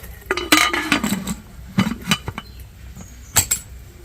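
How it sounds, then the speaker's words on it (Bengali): Metallic clinks and clatter as a pressure cooker lid is fitted and locked shut while baking an eggless fruit cake, a few sharp close knocks spread across the moment with quiet between. "এবার ঢাকনা দিয়ে আটকে দিচ্ছি"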